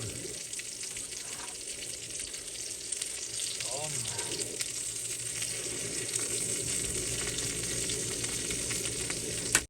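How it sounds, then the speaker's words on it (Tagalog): Hotdogs fry in a pan with a steady, close sizzle that runs the whole time, a brief clatter and faint running-water-like hiss mixed in. "Malapit na maluto ang hotdog."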